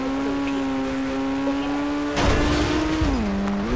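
Car engine straining while climbing a steep hill road on a village shortcut, a steady tonal drone that shifts pitch as it labours, with bumps and a louder rough burst partway through.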